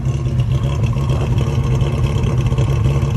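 Datsun 521 engine idling after warming up following years in storage, a steady close rumble with no pauses.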